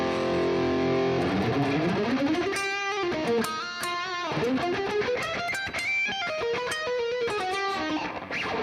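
An electric guitar through a distortion effect plays sustained chords and then fast descending and ascending runs, loud, dense and continuous with no talk.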